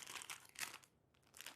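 A bag of tomato-flavoured Chipsy crisps crinkles close by in soft bursts of crackling plastic, with a brief pause before more handling.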